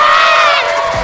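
A crowd of people shouting loudly outdoors on a glacier in cold conditions, a sustained, dense burst of raised voices running the whole moment with no pause.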